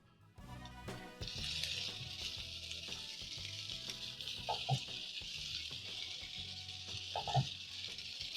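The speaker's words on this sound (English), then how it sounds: "Toss the carrots and cabbage, and everything is going to be cooking very fast because this is a stir fry." Carrots, cabbage and onions stir-frying fast in a hot pan, a steady hiss of sizzling throughout with occasional soft clanks and scrapes of stirring, fairly quiet and without talk.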